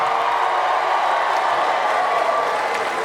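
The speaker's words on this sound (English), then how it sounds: "Married people, make some noise." Married audience members at a live stand-up comedy show cheer and applaud, a dense, steady wash of clapping and crowd noise from a large room.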